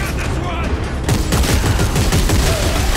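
Enemy gunfire in the sci-fi horror shooter Dead Space 3, a dense continuous rattle of rapid shots that grows louder partway through and sits close and loud over game noise.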